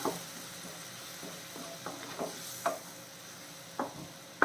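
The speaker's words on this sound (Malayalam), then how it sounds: "നമ്മുടെ തക്കാളി നല്ല രീതിയിലൊന്ന് വെന്ത് കിട്ടണം ഒന്ന് ഇളക്കി കൊടുക്കാം" Tomatoes and shallots frying in a pan for a prawn roast, a faint, soft sizzle under occasional light scrapes and clicks of a spoon stirring, quiet and close.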